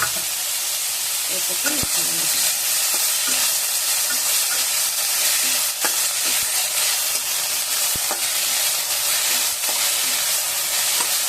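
Chopped banana flower added to a pan after tempering, frying with a steady broadband sizzle and occasional scraping stir strokes, close and fairly loud throughout.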